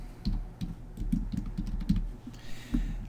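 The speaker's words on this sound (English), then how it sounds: "And then you type your name." Name being typed on a computer keyboard while working in SolidWorks engineering design software, a quick run of soft, close key clicks over a low hum, with no talking.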